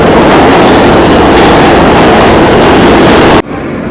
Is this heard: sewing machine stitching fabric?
no